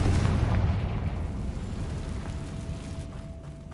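A fire spell blast cast in the video game Hogwarts Legacy, a loud, deep booming explosion that peaks at the start and then rumbles and fades slowly for a few seconds, heard alone without speech.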